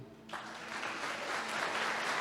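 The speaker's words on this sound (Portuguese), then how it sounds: "Aplaudam o que venceu." A church congregation breaks into applause during a sermon, a sudden broad wash of clapping that swells steadily louder and fuller, with no voices over it.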